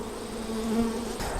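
Bees and yellow jackets buzz close around an opened beehive brood box, a brief, bright, steady droning hum with no talk.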